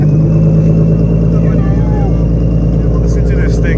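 A sports car's loud exhaust drones steadily up close, a thick, continuous engine roar that fills the whole moment.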